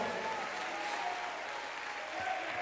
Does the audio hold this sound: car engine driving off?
no